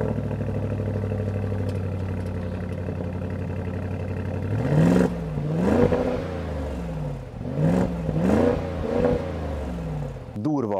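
An Audi SQ8 4.0 V8 TFSI engine idles with a deep rumble, then revs several times in quick surges, the exhaust note from its four outlets rising and falling close by.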